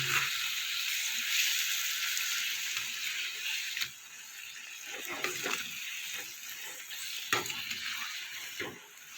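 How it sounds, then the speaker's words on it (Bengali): Flat beans sauté with spices in a pan, giving a soft, steady sizzle with occasional scraping stirs and clinks, fairly faint and close. "এভাবে সমস্ত মশলার সাথে সিম আমি কষিয়ে নেব"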